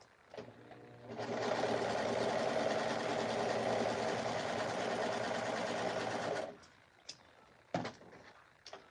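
A serger trims and overlocks fabric for a prom dress. It runs at a fast, even hum for about five seconds, then stops, followed by a few soft handling knocks.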